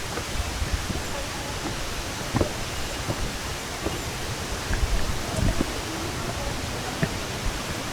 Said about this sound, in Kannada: ಸೌಂಡ್ ಕೇಳಿಸ್ತಿದೆ ನಿಮಗೆ, ನೀರು ಹರಿತಾ ಇದೆ.